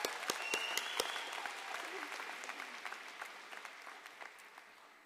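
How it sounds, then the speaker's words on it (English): Graduation ceremony audience applauds after a valedictorian's call, a burst of many hands clapping that starts strong and gradually fades away over several seconds. "I think all of us deserve a round of applause here"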